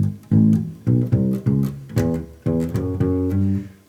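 A bass line played in position walks through notes with double chromatic approaches, about a dozen distinct plucked notes in a steady rhythm, close and clear with no voice.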